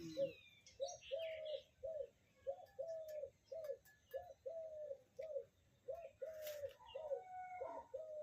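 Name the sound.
dove calling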